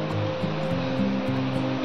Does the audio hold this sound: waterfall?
yes